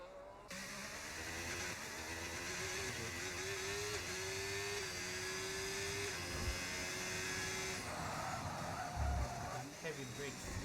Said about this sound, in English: Heavy brakes.